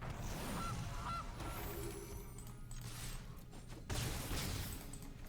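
Cartoonish goose honks from the Magic Arena card game, a couple of short nasal calls early on set against a busy game soundscape with low rumbling and a louder burst near the end.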